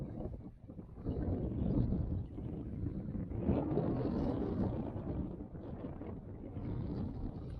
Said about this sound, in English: That wind keeps gusting up.